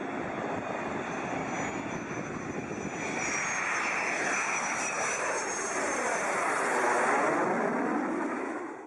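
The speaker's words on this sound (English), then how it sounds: "a massive jumbo jet, with a literal spaceship riding on top of it" A massive jumbo jet carrying a space shuttle on its back roars overhead, a loud sustained engine drone with a rising whine and a slow pass that swells toward the end.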